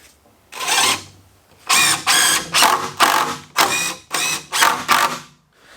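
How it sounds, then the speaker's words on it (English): Decking screws driven into the ancient timber of a rustic bed frame, a drill whining in about eight loud, close bursts of roughly half a second each, separated by short pauses. "these screws that I'm putting in, these decking screws, this is just to mock it up"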